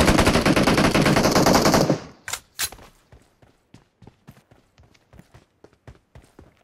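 PUBG Mobile gunfire: a loud sustained burst of automatic fire for about two seconds, then scattered sharp single shots and lighter taps that fade in loudness.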